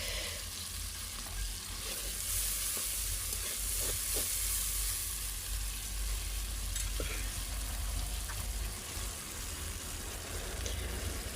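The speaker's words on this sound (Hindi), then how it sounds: "मसाला फ्राई हो गया है और टमाटर डाल देंगे" Tomatoes go into frying masala for a chicken aloo shorba curry and are stirred, giving a steady close sizzle with scraping stir sounds throughout and no talking.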